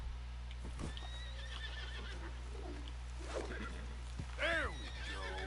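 A Nakota horse in Red Dead Redemption 2 lets out a short, wavering whinny near the end, after scattered hoof clops and snorts over a constant low drone, with brief talk earlier.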